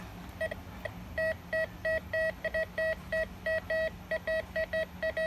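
Rapid electronic beeping from an MD 4030 metal detector, short tonal pulses repeating in quick irregular bursts over faint background noise.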